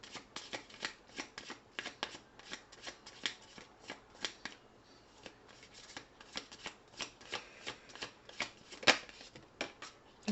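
Tarot cards being shuffled, a rapid run of crisp riffling flicks and taps, close and fairly quiet, continuing steadily with no talk.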